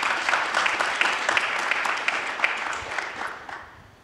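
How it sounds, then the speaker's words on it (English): A conference audience claps to welcome a panel onto the stage, a dense, steady round of applause from many hands that holds for several seconds and then tapers off. "a quick round of applause for them just to get started"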